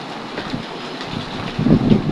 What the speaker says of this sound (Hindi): देखिए गाइस किस कदर बारिश तेज हो रही है